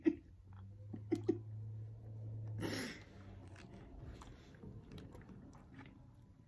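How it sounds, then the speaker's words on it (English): Close, soft chewing and biting of a hard, jelly-like Japanese candy, with a few sharp clicks at the start and a brief rustle, fairly faint throughout. "This is hard to chew."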